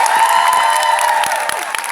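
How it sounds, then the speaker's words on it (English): Applause and cheering from a convention crowd after a celebrity Q&A panel, sustained and dense throughout with scattered claps standing out. "Can I have a big applause for Mr."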